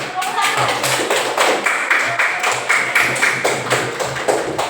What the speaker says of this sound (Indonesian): Beri tepuk tangan kelas 1.